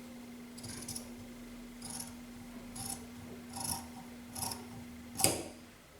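Scissors snip through saree blouse fabric in a slow series of about six separate crisp cuts, close up, with a faint steady hum underneath and no talking.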